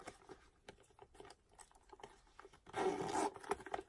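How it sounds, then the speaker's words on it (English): A Louis Vuitton Pochette Accessoires NM pouch is zipped shut, a brief close rasping zip lasting about half a second after soft handling rustles, with no talking. "Yep, zips up perfectly."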